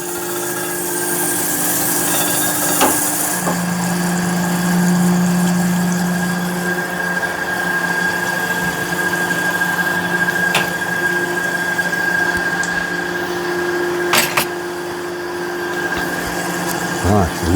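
Crankshaft grinding machine working on a journal of a Jaguar crankshaft, giving a steady continuous machine drone with a low hum throughout, a few short clicks and knocks over it, close and fairly loud.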